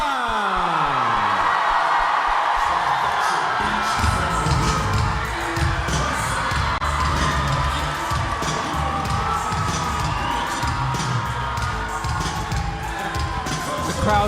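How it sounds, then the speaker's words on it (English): Crowd at a university MMA fight night cheering and shouting, a loud continuous roar of voices with whoops and yells filling the hall, an announcer's voice briefly heard at the start. "The crowd going absolutely wild."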